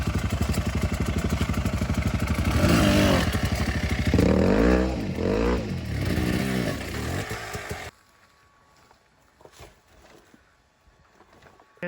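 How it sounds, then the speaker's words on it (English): A dirt bike revs hard as it climbs a steep rock face, the engine loud and close, rising and surging for several seconds before cutting away to faint distant sounds. "Murray's now on his way up, and he's riding Wombat's bike"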